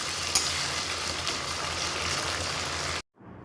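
Ground spice paste frying in a pan with browned onions for a mixed vegetable curry, a steady broadband sizzle for three seconds that cuts off abruptly, then a fainter hiss returns.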